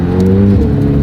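A brand-new two-million-dollar hypercar with no windshield drones steadily from close by as it drives, its engine note loud and smooth in one short, continuous burst.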